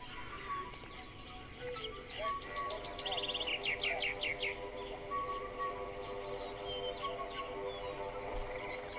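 Birds chirping in a dense jungle ambience, with overlapping tweets and trills over a constant insect-like hum, fairly faint and continuous throughout.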